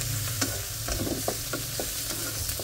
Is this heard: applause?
no